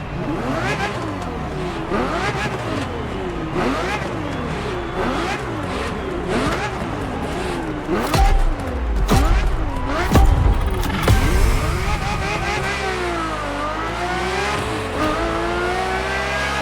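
A Ferrari F50 in The Crew Motorfest revving hard through repeated rising and falling gear sweeps, loud and continuous, with a brief tire squeal and deeper roar midway.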